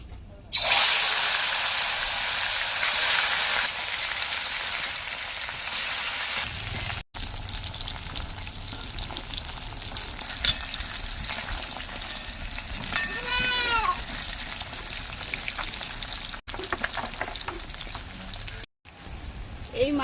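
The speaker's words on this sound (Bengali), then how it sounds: "এবার একে একে মাছগুলি তেলে ভেজে নেবো" Pieces of live koi fish sizzle and crackle in hot smoking oil, a loud, steady hiss that continues throughout, with a few brief gaps and some faint clinks and background noises.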